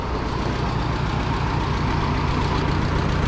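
A Super 44 tractor engine idles steadily nearby, a dense, even low rumble with no pauses and no talk.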